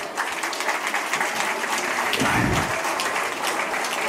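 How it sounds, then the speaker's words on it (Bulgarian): Applause from an audience at an award ceremony honouring a photographer, a steady dense wash of many hands clapping throughout, swelling briefly in the middle. "Аплодисменти!"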